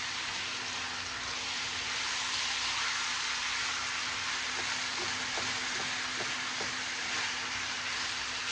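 Pepper, garlic and taco seasoning fry in a pan, giving a steady, even sizzle throughout with a faint low hum beneath and no voices.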